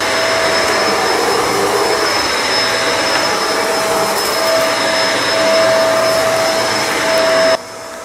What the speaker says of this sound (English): Let's see if the vacuum works.